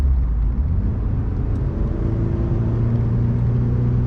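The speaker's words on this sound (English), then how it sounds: "That was a terrible downshift." A Honda Civic Si FA5 is downshifted while driving. The engine makes a loud, constant low rumble and drone heard from inside the car, and its pitch shifts slightly partway through.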